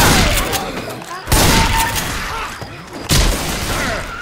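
Rapid bursts of gunfire ring out in Left 4 Dead 2's Dark Carnival, two loud volleys cutting through a busy game mix of shooting and clatter, with players' voices faintly underneath.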